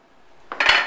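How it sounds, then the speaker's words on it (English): A short hiss of butter-flavored aerosol cooking spray bursts onto muffin tins near the microphone, following a faint metallic clink, lasting under half a second. "I'm going to spray the muffin tins with the butter spray"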